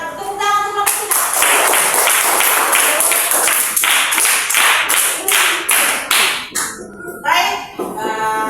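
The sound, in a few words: classroom applause for group 3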